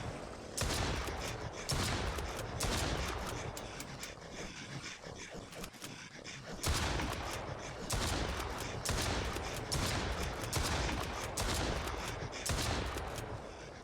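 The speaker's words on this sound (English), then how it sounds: "I'm just going to use my shotgun because it's not my world" Repeated shotgun blasts in the survival game Mist Survival, coming in dense clustered volleys that fill the scene, with a brief lull midway before the firing resumes just as heavily.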